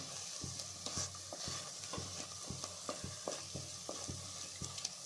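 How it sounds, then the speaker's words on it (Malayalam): Food sizzles steadily in hot oil in a pan during layered chapati cooking, with regular sharp stirring taps of a spoon against the pan every half second or so, close and fairly quiet. "അതൊന്ന് എണ്ണയിൽ കിടന്നൊന്ന് മൂക്കണം"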